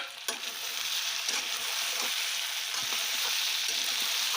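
Potatoes fry in a pan with a steady, loud sizzle that carries through to the end, with a few faint scrapes and knocks of stirring underneath.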